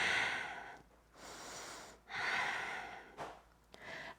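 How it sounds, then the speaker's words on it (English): Slow, deep breathing during a yoga side-body stretch, long airy inhales and exhales alternating with short pauses, close and fairly loud, with no talking. "breathing"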